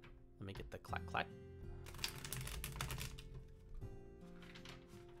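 Gold-flaked tarot cards are shuffled with quick, crisp clacks and riffles in short bursts, close and fairly quiet, with a low steady hum underneath.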